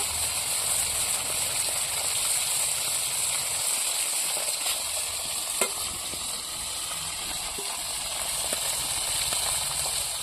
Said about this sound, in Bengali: কড়াইয়ের মধ্যে তেল দিয়ে দিয়েছি, দিয়ে সেটা এক এক করে মাছটি দিয়ে দিছি। মাছটি লাল করে ভাজছিলাম।